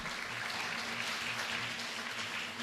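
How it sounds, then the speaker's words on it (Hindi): An audience at a drama workshop event claps steadily for about two and a half seconds, a dense, even wash of applause at moderate loudness with a faint low hum beneath. "इसके लिए ज़ोरदार तालियां"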